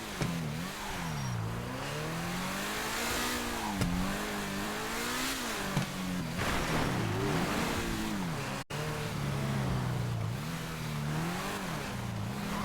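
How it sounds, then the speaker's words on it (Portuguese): A fast car in the video game GTA V accelerates, its engine revving up and dropping back repeatedly in rising and falling sweeps, loud and close throughout, with no talk. "esse carro é muito rápido"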